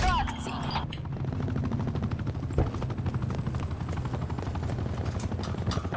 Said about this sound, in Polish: Potrzebne wsparcie helikoptera.